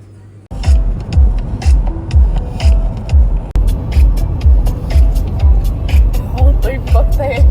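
A car drives along a rough, winding country road outside Tallinn, its engine rumbling steadily with repeated low thumps and jolts from bumps, heard from inside the cabin with occasional rattles.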